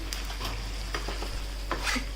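Chicken in green masala bubbling in an uncovered pot, with soft sizzling, scattered pops and light stirring clinks over a low steady hum, all quiet and without speech.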